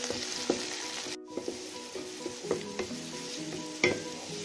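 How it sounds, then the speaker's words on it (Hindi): Tamarind frying in a pan for a red sorrel leaf pickle gives a soft, steady sizzle, broken by repeated clinks and scrapes of a spoon against the pan. "इमली भी डाल देंगे, एक मिनट तक भून लेंगे इसे"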